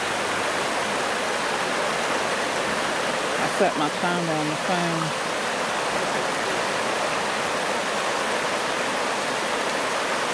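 Steady rushing water from Beaver Dam Creek, a mountain creek, fills the scene, loud and continuous, while a person briefly speaks over it.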